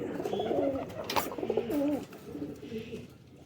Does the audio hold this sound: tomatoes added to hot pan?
no